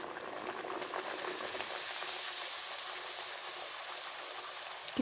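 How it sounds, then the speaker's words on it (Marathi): Spinach puris deep-frying in hot oil give off a steady, dense sizzle and crackle that holds evenly throughout, close and continuous with no voices. "त्याचबरोबर आपण आणखी 2-3 पुऱ्या तळून घेऊयात"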